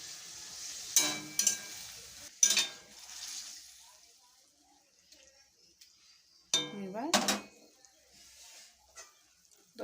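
Pointed gourd is stirred and fried with mustard spice paste in a pan, giving intermittent bursts of sizzling and scraping with utensil clinks against the pan, separated by quieter gaps.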